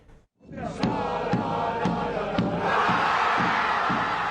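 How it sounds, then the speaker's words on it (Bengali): Spanish football supporters roar after a World Cup semifinal win at the Dallas stadium in Texas, a dense, loud crowd cheer that swells after a brief quiet start and holds with rhythmic chanting pulses. "দাপটে জয়ের পর বাঁধভাঙা উল্লাসে মেতে ওঠেন স্প্যানিশ সমর্থকরা।"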